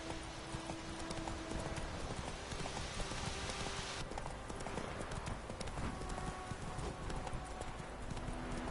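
Steady clip-clop of the horse Roach galloping in the Witcher 3 video game, a continuous rhythmic hoofbeat at close range under a dense ambient game soundscape.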